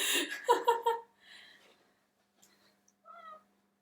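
A cat meows several times nearby, a couple of short, fairly loud cries followed by quieter, softer mews in an otherwise quiet room.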